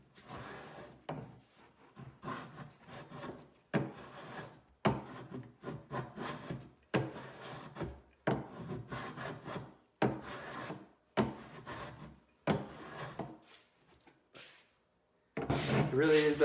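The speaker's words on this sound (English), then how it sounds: "And now I can come back with the sander" Wood being smoothed, the work following hand planing, in a run of about a dozen rasping strokes of similar length separated by short pauses, fairly loud and close, with a brief different handling sound at the end.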